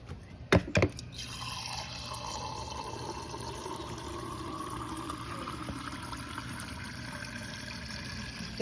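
Water being poured from a cup into a cooking pan to make Indian milk tea, a brief clatter followed by a steady close liquid pour and fill that runs for several seconds without talk.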